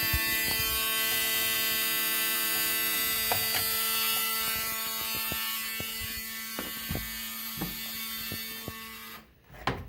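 A 1974 Alfa Romeo engine cranking below, heard as a steady mechanical whir with repeated ratcheting clicks and knocks for most of the span, loud and close, cutting off near the end.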